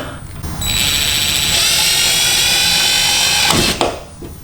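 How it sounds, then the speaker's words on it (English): A power drill whines loudly for about three seconds, a high-pitched grinding with tonal squeal as the bit cuts through a carbon fiber rear diffuser, then spins down. "I've pre-drilled that smaller hole"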